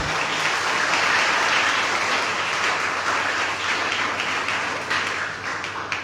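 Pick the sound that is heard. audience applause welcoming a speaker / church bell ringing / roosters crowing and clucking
audience applause welcoming a speaker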